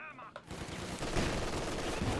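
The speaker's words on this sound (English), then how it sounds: "that's the sound of an anti-tank gun" Loud, dense gunfire in Company of Heroes 2, with heavy booming anti-tank gun shots layered over continuous crackling fire, close and sustained.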